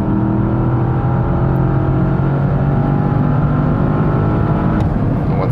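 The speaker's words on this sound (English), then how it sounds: "the way this big sedan, you know, and heavy sedan handles here on the racetrack is absolutely incredible" A 2021 Porsche Panamera Turbo S, a big, heavy sedan, drives hard on a racetrack at close to 200 km/h. Its engine gives a loud, sustained drone with a steady pitch and no talking.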